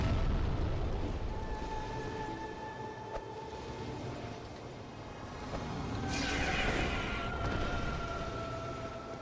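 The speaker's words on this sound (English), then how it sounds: "Black fire bombs, I think." Black firebombs burst in a Dark Souls boss fight against a caterpillar-like foe, heard as dense rumbling explosions over steady game noise and music, with a brighter crackling burst swelling near the end.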